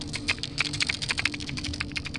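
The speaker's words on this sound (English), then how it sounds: "It's like something's clicking in the water." A creature clicks underwater, a rapid irregular train of sharp close clicks with a reverberating quality, heard alone.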